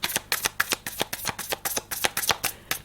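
Tarot cards are shuffled in quick rhythmic bursts, about a dozen crisp riffling slaps in under three seconds, close and clear with no talk over them.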